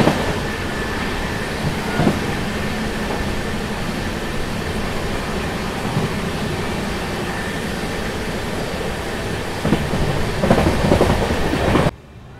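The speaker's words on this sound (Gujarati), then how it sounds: "આપણી ટ્રેન આવી ગઈ છે ગોધરા જંકશન રેલવે સ્ટેશન ઉપર" An express train running from Veraval to Jabalpur pulls into Godhra Junction, heard from inside a coach as a steady, loud rumble of wheels and carriage noise, with a few clunks near the end.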